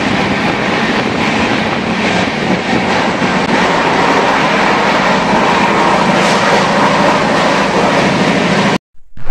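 Loud, steady rumble and clatter of a moving passenger train on a Delhi to Kolkata journey, sustained without a break until a sudden cutoff near the end.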